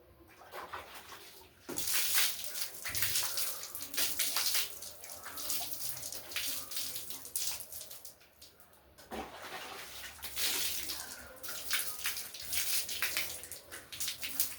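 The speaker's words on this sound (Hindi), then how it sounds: "मुंह धो रही हूँ।" Tap water runs steadily while a face is washed under it in a morning routine, with a continuous hiss and splashing that briefly breaks around the middle, close by and without talk.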